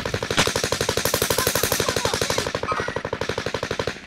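Sustained automatic gunfire from a video game firefight, a fast even rattle of closely spaced shots running loud and unbroken for several seconds before it thins out and ends with a final burst.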